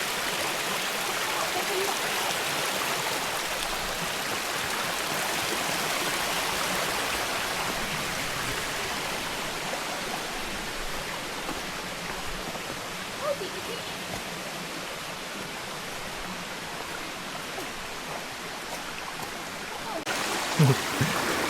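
A stream rushes steadily at the third river crossing of the Gunung Berembun hiking trail in Negeri Sembilan, a continuous broad hiss of flowing water close by, with a brief knock near the end.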